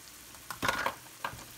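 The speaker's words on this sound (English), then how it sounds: "We're going to add butter." Butter hits a hot pan as canned corned beef cooks for a Jamaican rice and peas meal, a short crackling sizzle that swells in two quick bursts and then fades back.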